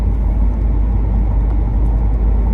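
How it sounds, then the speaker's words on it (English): Cars racing past on a road, one of them a Chrysler 300, make a loud, steady engine and road rumble that holds without a break. "this guy's racing him behind me"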